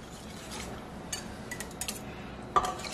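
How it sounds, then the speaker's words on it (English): An egg-lemon mixture is stirred into soup in a pot, with soft scraping and a few metal spoon clinks against the pot, including one sharper knock near the end, close and quiet, no voices. "Then I'm going to take this whole mixture and mix it right into the soup."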